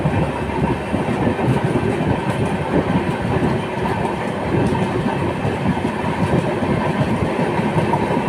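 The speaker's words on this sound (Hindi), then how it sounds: "Crossing with Ahmedabad Darbhanga Sabarmati express." A passing train, the Ahmedabad–Darbhanga Sabarmati Express, rumbles past at close range. Its loud, steady roar and clatter fill the whole stretch without a break, with no voices.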